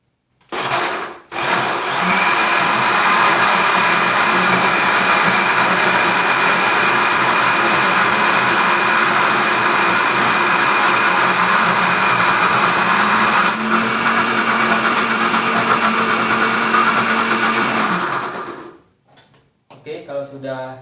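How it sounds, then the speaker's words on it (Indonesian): A blender grinds plant ingredients to a smooth paste, running loud and steady for about seventeen seconds before winding down, with a few clatters at the start and end. "selanjutnya kita akan blender sampai"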